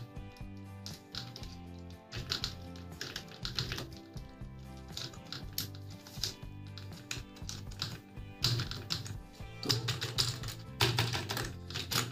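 Rapid typing on a Zebronic ZEB-K20 USB keyboard, a close, steady stream of crisp key clicks in uneven bursts with brief pauses, no voices over it.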